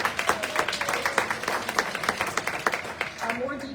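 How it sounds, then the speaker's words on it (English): Scattered applause from a small audience at a board and community meeting, irregular claps close by, with voices murmuring underneath. "Can we get any applause?"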